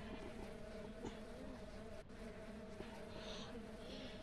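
Buzzing bees in the farming video game Ranch Simulator, a steady droning hum heard continuously and fairly close, with faint game ambience around it.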